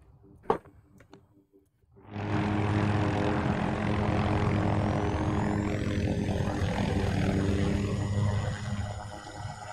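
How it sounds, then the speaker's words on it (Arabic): A propeller aircraft in the video game Battlefield 2042 roars in loudly after a brief quiet start, holding a steady, droning engine tone close by for the rest of the stretch. "طيارة طيارة."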